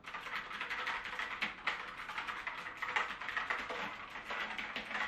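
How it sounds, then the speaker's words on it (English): Rapid, steady clacking of keys on an RGB LED mechanical keyboard, fairly loud and close, continuous with no talking. "It's an okay keyboard, but can be quite loud"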